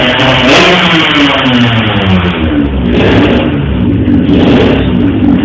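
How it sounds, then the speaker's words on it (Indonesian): A nearby workshop engine revs loudly and repeatedly, surging and falling in pitch over a continuous mid-range drone, close and dominant with no voices. "Kacau bengkel nih, berisik aja."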